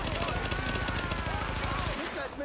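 Rapid automatic gunfire from The Division on PS4 rattles in dense, continuous bursts, loud and close, cutting off abruptly just before the end.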